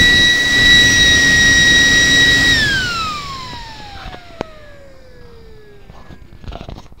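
A small electric jet fan spins down with a loud, piercing whine like an aircraft engine, holding steady for a few seconds before the pitch falls away, leaving a faint hiss and a few soft knocks.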